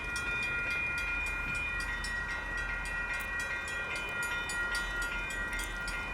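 Freight train rolling slowly past the Fondren Road and South Main Street crossing in Houston, Texas, a continuous loud rumble with sustained horn-like tones and rhythmic wheel clatter throughout.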